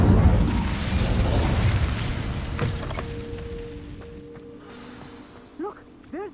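A fire spell blast in Hogwarts Legacy, a loud booming burst that decays into a long rumble, followed by a steady tone and a couple of short rising chime-like sounds near the end.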